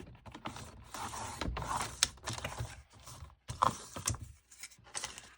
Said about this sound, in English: now what I want to do is cut this piece down so it'll fit